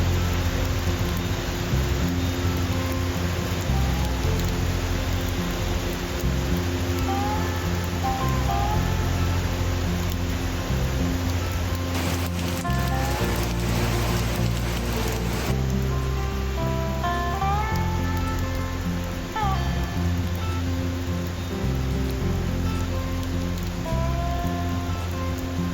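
Steady rain falls throughout, a dense even hiss of drops on surfaces close by, with no one speaking.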